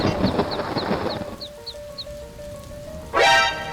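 A cartoon chick chirps in a quick run of about seven short, high peeps over rain noise, followed by a sudden loud rising swoosh.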